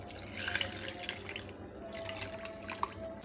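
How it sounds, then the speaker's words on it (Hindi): Water poured into a glass of peach sharbat, a close, soft liquid splashing and trickling that swells and fades over a few seconds, with no talk. "और ये पानी डाल रही हूँ।"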